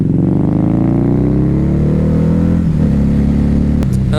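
A Harley-Davidson Night Rod performance cruiser motorcycle engine revs loud and close, its deep throbbing note sliding downward as it winds off, with a brief sharp click near the end.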